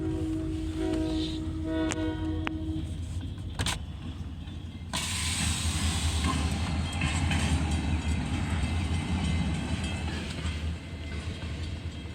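A train rumbles loudly and steadily past a railroad crossing in California, with a brief tonal hum and sharp clicks early on, then a broad continuous roar of rolling cars.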